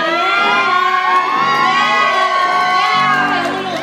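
A crowd of children cheers and shouts loudly before a rock band plays a cover, a dense and continuous mass of excited young voices with whoops rising and falling.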